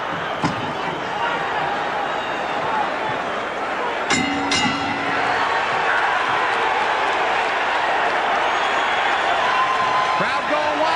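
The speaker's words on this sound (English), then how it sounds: "Crowd going wild" A boxing crowd at an IBF super middleweight title fight between Roy Jones Jr. and Vinny Pazienza roars in a loud, sustained wall of cheering and applause, with a couple of sharp clinks or slams near the middle, while a commentator talks over it.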